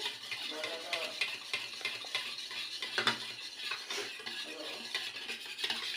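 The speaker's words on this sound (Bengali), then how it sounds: "কড়াইয়ে দুই চামচ তেল দেব দুই চামচ তিন চামচ দিলে হয় দিয়ে দিয়েছি তিন চামচ তেল দিয়ে ভালো করে ভাজিয়ে নিচ্ছি" Three spoons of oil fry in a kadai while a utensil stirs and scrapes through it, a busy, uneven scratching and clinking over a faint sizzle, moderately quiet and continuous, with no one speaking.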